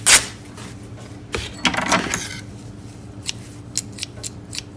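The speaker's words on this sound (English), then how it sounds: "Scissors need sharpening" Scissors that need sharpening snip through plastic in a series of short, crisp cuts, one sharp crunch at the start, then scattered clipping strokes and faint rustling, close and moderately loud.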